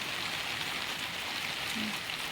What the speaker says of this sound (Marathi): पाऊस असा रिमझिम रिमझिम रिमझिम येतो